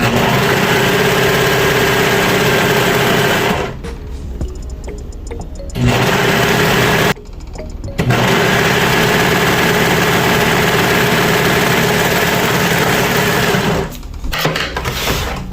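Sewing machine hemming a t-shirt dress runs loud and steady for most of the span, stopping briefly twice and trailing off near the end.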